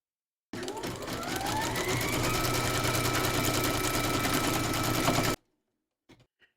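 An embroidery machine stitches around a hoop with a fast, even mechanical whir and rapid needle patter for about five seconds, then stops abruptly, followed by a couple of faint clicks.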